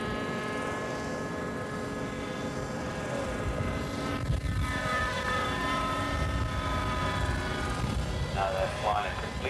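Radio-controlled model helicopters flying and hovering together, one circling around another, giving a continuous high whining buzz of small rotors and engines that shifts in pitch as they move, with a voice talking over it.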